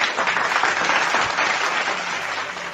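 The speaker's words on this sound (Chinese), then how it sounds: "掌声鼓励鼓励" A live radio-stream audience claps in a short burst of applause, a dense steady patter of many hands lasting under three seconds.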